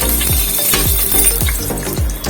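Close, steady sizzling of whole spices like cloves, cinnamon, bay leaf and cardamom frying in hot oil, with a series of regular low knocks running underneath.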